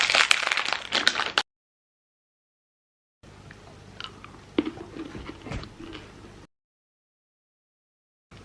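Chocolate mini eggs are crunched and chewed up close, with bursts of crisp candy-shell cracking separated by stretches of silence.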